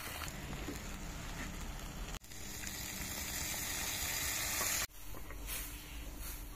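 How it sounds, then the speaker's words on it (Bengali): Curry gravy simmers in a clay pot over a wood fire, giving a steady close bubbling sizzle with a soft crackle. It runs throughout, with two brief dips in level. "ঝোল ফুটে গেছে"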